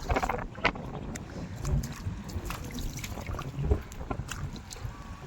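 Water laps and splashes against a small boat on the sea, with scattered knocks and a breezy background, no clear talking.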